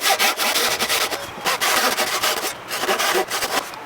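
A Japanese hand saw cuts wood for a shiribasami tsugi scarf joint, giving close, rhythmic rasping strokes back and forth in quick, even succession with no talking.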